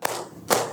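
Two sharp hand claps, loud and close, fall about half a second apart in a children's surah-name clapping game during an Iqra Quran reading lesson. No voices are heard.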